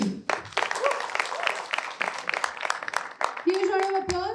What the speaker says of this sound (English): Huge round of applause for contestant number 25 for her courage